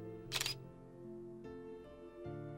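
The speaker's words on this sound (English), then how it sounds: "I heard the shutter sound of the camera in the immediate vicinity." A single camera shutter snaps once, a quick crisp mechanical click close by, set against a soft sustained musical backdrop with gentle tonal shifts.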